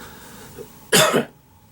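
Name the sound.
cough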